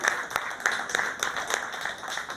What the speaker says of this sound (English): Let's give Adeline a round of applause